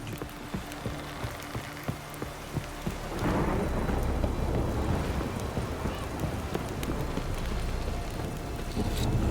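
Rain and thunder in the video game The Witcher 3: Wild Hunt. Horse hooves clip-clop alone at first, then a heavy, steady downpour with low rumbling sweeps in and holds to the end.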